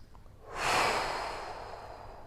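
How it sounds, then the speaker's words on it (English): A single slow, deep stomach breath taken during a home golf fitness workout, swelling into a close, soft rush of air and then easing off gradually, with no talking. "breathe nice and deep from the stomach"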